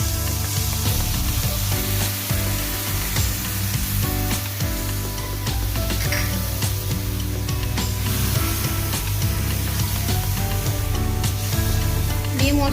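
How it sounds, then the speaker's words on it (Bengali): Spice mix being sautéed in a pan for a vegetarian moong dal, with sugar and a little water added, giving a steady close sizzle and frying hiss throughout, with occasional stirring scrapes and no talking. "মশলাটা আমি ভালো করে কষে নেব।"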